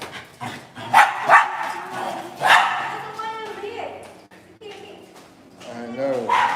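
Dogs bark in a few sharp outbursts close by, mixed in with people talking over them.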